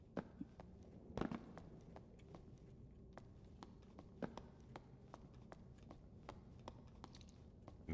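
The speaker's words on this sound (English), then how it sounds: "Thought I heard footsteps." Footsteps in the dungeon video game Dark and Darker, a scatter of soft, irregular steps over low ambient hum, with one sharper thud near the start and no talk.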